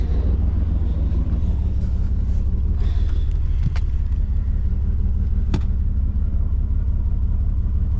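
A $250 Mercedes-Benz engine runs steadily just after starting, a continuous low rumble at idle, close and loud throughout, with a couple of brief faint clicks.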